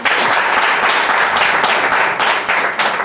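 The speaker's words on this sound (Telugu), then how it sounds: "అర్థమైన వాళ్ళు చప్పట్లు కొట్టండి." A church congregation claps together during a Sunday sermon, producing dense, loud, continuous applause that fills the whole stretch, with no talking over it.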